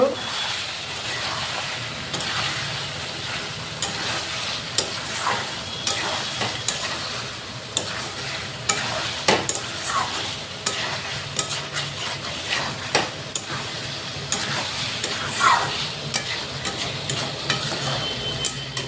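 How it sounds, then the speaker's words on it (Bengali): Steady sizzling of hilsa fish curry with fried eggplant in mustard paste frying in a pan, with repeated scraping and stirring strokes, close up, continuous throughout. "এখন এই যে ভাজা করা বেগুনগুলা দিয়া দিব, দিয়ে অল্প ভালো করে কষিয়ে নিব"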